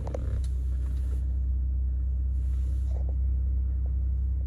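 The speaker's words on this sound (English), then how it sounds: "It is a foot on the brake, one push button here. Truck starts right up." A Ford F-150 Lariat pickup's engine idles steadily, a deep, even low rumble heard from inside the cab, with faint clicks and light rustling over it.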